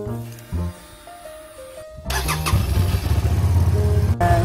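Aquila 300 (GV300S) motorcycle engine during warm-up before an oil change: faint tones and clicks, then the engine catches and settles into a loud, steady, close idle with rhythmic pulsing.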